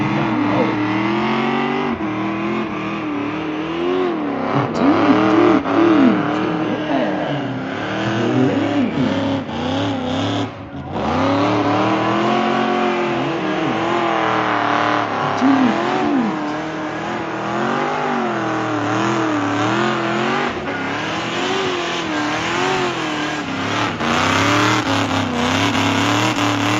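A classic muscle car does a burnout with turbo sound at a 2024 drag racing event: a loud, sustained engine roar with wavering revs that runs nearly unbroken for the whole stretch, close by.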